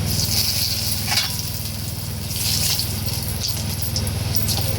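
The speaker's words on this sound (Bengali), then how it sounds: "এই মাছের তেলের মধ্যেই আমি দেব জিরে ফোড়ন, দেব 2টো শুকনো লঙ্কা, আর দেব একটা তেজপাতা।" Cumin seeds, two dried red chillies and a torn bay leaf sizzle loudly in oil left over from frying fish, with a low hum underneath and a few short scraping stirs.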